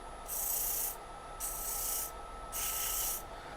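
Three close, rhythmic strokes of 220 grit sandpaper rubbing a wooden muddler, each a soft hissing rasp lasting about half a second with short pauses between, over a low steady background hum.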